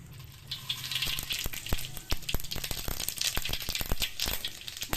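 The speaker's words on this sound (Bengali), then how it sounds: "এবার কড়াইতে অল্প একটু তেল দিয়ে দেবো সামান্য একটু এবার একটু সর্ষে ফোড়ন দেব" Mustard seeds crackle and pop in a little hot oil in a kadai, a dense, close sizzle broken by frequent sharp spattering pops throughout, with no talking.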